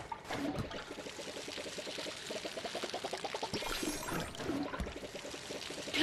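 Water pours onto a houseplant in a steady, gurgling stream with rapid rhythmic bubbling, close and fairly quiet, running without a break for several seconds.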